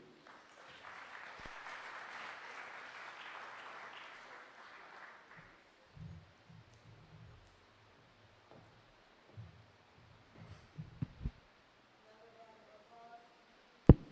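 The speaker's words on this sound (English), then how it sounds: "Another round of applause for Guy François" Audience clapping at a tech summit swells and holds for several seconds, then fades out, followed by scattered thumps and a few quiet voices.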